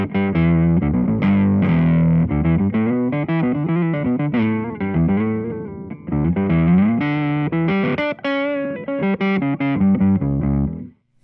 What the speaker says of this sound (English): So the first setting is an overdrive plus an octave down.